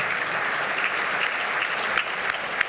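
An audience at an award dinner applauds steadily, a dense even wash of many hands clapping together, loud and sustained throughout.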